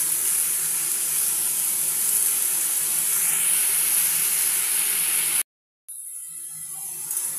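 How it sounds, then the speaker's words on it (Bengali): Garlic, dried chilli, mung dal and peanuts fry in a pan with a steady, close sizzling hiss that cuts out briefly near the end before resuming. "একটু ভাজা হোক।"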